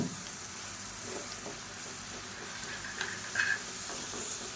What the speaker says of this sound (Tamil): இது நல்லா எண்ணெய் பிரிஞ்சு வர அளவுக்கு வதக்கி விட்டுக்கலாம்